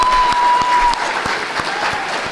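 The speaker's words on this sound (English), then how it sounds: "Let's give one more round of applause for our CCPS Portrait of a Graduate video" Loud applause from an audience at a school district's State of the Schools event, dense continuous clapping with a brief steady tone sounding underneath at the start.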